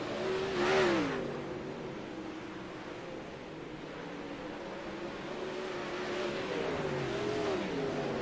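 Sprint cars in an All-Star heat race roar around an oval track, engines droning loudly and steadily with rising and falling passes, one car swelling near the start and another near the end.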